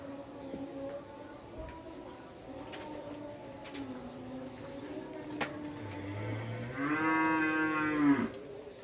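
Cattle in an Indonesian village moo: a soft, distant low call in the middle, then a louder, nearer drawn-out moo toward the end over quiet rural background.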